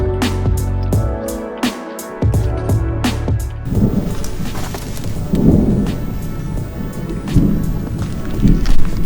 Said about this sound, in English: I don't know if you could hear that in the camera, but that's some rolling thunder